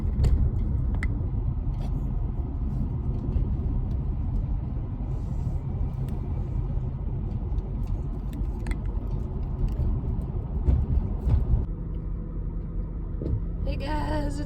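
A car engine rumbles low and steady in stop-and-go traffic, a constant close drone with faint scattered clicks and no clear talking over it.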